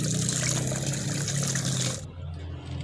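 Water trickling from a homemade flower-pot filter into a small minimalist fish pond, a steady close splashing wash that cuts off abruptly after two seconds, leaving a quieter low flow.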